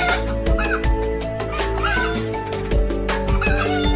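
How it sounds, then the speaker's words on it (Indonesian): Chickens cluck repeatedly nearby, with a short rooster-like call among them, over a steady low hum. "ada ayam"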